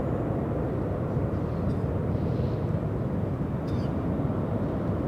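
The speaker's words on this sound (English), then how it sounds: "We have Japan Airlines 60 flying in from Osaka, Japan. A 9-hour, 36-minute flight, 787-9." A Japan Airlines 787-9 airliner flies in to land at LAX, its broad, steady jet roar filling the air at a constant level throughout.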